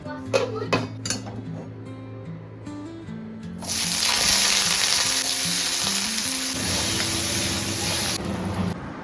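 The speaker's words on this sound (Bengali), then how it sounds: "এই যে ককটেল সসেজ আছে, এই সসেজটা ভাজবো।" A few clinks of a wok come first, then a loud, steady sizzle of cocktail sausages frying in hot oil, with occasional stirring and low music underneath.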